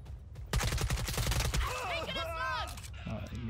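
Rapid bursts of automatic gunfire crackle in the online shooter Caliber, a dense volley lasting about a second, with a player's voice talking over and after the shots.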